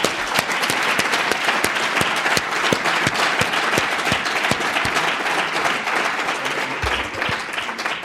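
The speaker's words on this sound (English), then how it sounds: "I think we can applaud them" Steady, full audience applause at an annual research fund ceremony, continuous and evenly sustained from a large crowd with crisp individual claps, heard alone without talk.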